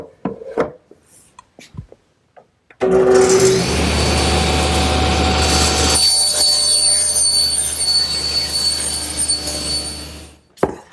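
A table saw with a panel cutter starts up and cuts through a panel blank to square one end, producing a loud sustained whine with a lower tone as the blade bites, then winds down. A few faint knocks come before it.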